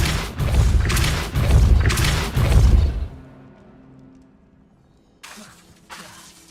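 In Hogwarts Legacy, a Repulsor spell blast lands as a cluster of loud, shattering bursts over about three seconds, then drops to a faint ringing tail before one softer impact follows.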